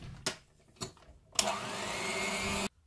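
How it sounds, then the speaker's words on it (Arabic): An electric mixer whisks eggs with sugar until foamy, with a couple of sharp knocks first, then a steady, loud motor whir that cuts off suddenly. "نخفقوهم جيدا حتى يتحولوا الرغوه"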